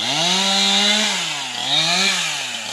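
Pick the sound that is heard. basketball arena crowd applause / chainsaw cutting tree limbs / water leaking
chainsaw cutting tree limbs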